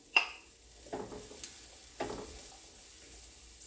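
A medium onion in about a tablespoon and a half of oil is stirred in a pan, giving a soft sizzle under a few scraping stirs and light clinks spaced about a second apart, close up and without voices.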